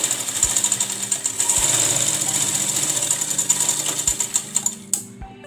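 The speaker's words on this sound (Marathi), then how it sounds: "इथे जोडायचं आणि सरळ टीप मारून घ्यायची आपल्याला" An electric sewing machine stitches a straight seam on fabric for a baby's bunny bonnet, a loud close rapid mechanical chatter running continuously, then slowing into separate knocking stitches before stopping, with a few dull thumps along the way.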